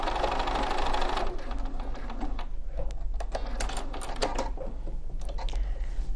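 A domestic sewing machine stitching pyjama fabric whirs in a continuous run, then breaks into short bursts of stitching and clicks as the seam is worked, close and moderately quiet.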